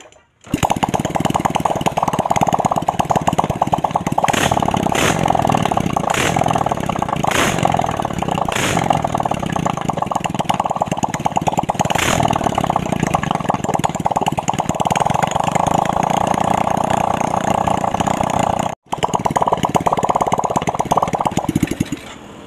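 A Honda Supra X125 motorcycle engine runs without its exhaust fitted during a first test after piston ring replacement, giving a loud, raw, steady clattering idle that holds for about twenty seconds with a brief cut near the end.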